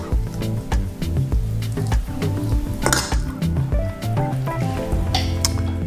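A soup spoon scooping ground chicken for tsukune skewers, with dense clinks and scrapes of metal against a bowl and soft squishy mixing, close and continuous.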